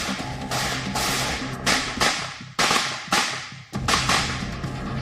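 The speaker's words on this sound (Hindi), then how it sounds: "हाथ में खतरनाक MP5 SMG गन और टारगेट पर नॉन स्टॉप फायरिंग।" An MP5 submachine gun fires non-stop at a target during police training, a string of sharp, loud, cracking bursts and bangs with short gaps and echoing tails, no voices heard.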